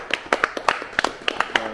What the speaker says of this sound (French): Bravo, vraiment, faut s'applaudir parce que c'était vraiment chouette.